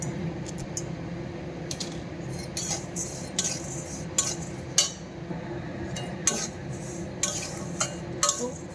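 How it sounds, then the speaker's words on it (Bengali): A utensil scrapes and clinks against a pan while salt and cloves roast, with repeated metallic taps and scrapes in an irregular rhythm over a soft background hiss, close and fairly quiet, no talk. "লবণটা একটু নাড়ানাড়ি করার পর একটু গরম হয়ে গেলে এতে লবঙ্গগুলো দিয়ে দেবো"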